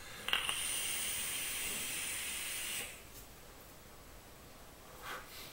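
Vapor from a Gambit Kudzu e-cigarette mod is exhaled in a steady, close hiss lasting about three seconds, followed after a pause by a brief, faint puff.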